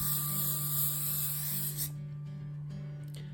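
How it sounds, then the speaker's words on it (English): Kryolan fixing spray is misted onto the face, a short hissing spray burst over a steady electrical hum, then quiet background with small rustles. "So I'm going to spray, give it a good shake"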